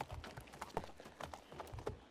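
Patrol horses' hooves clip-clop in a steady, uneven walking rhythm, close but quiet, with no talk over them.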